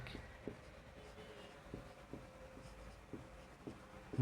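A pen scratches and taps on paper while a sixth-grade math problem on ratios is worked out, close and quiet, with short strokes in an irregular rhythm.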